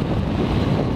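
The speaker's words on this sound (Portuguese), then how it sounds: "E agora eu vou pegar esse vento gelado." Cold wind buffets the microphone of a rider on a moving motorcycle on a gusty day, a loud, low, rumbling roar that stays constant for a brief moment with no speech.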